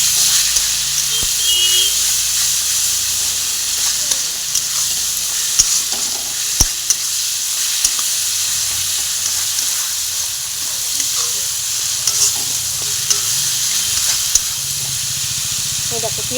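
Onions and spices frying in oil with a little sugar, giving a steady, loud, close sizzle and hiss with occasional clicks and taps of a spoon in the pan.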